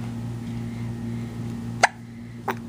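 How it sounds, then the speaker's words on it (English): A 9-week-old baby hiccups twice: a sharp, close hiccup is followed about half a second later by a softer second one, both over a steady low hum in a quiet room. "Hiccup."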